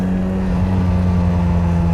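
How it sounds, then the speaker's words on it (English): Fiat 124 engine after a downshift and lifting off the throttle, a loud close low rumble with a strong steady hum and rough snarling texture, no voices. "The little snarls."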